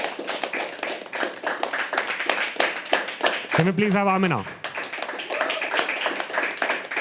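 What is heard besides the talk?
audience clapping at open mic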